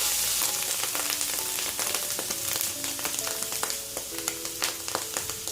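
Mushrooms sizzle and fry steadily in a hot pan for mushroom cauliflower fried rice, a close, continuous crackle with light stirring clicks and no talk.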